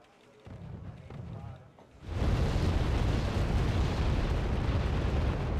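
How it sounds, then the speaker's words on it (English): Artillery barrage in the Wargame AirLand Battle game, a muffled rumble that breaks into a sudden loud, sustained roar of explosions, with speech heard faintly beforehand. "Incoming artillery into the center."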